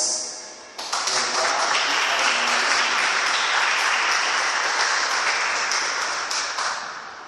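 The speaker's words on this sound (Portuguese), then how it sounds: "glorificar o nome do Senhor com as palmas" A church congregation claps together in praise, a dense, loud wash of applause that starts abruptly and holds steady before tapering slightly at the end.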